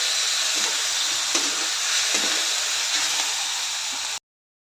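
Okra tipped into a pan of roasted onion and tomato for a village-style bhindi sabzi sizzles loudly and steadily, with a few soft stirring knocks, then cuts off abruptly near the end.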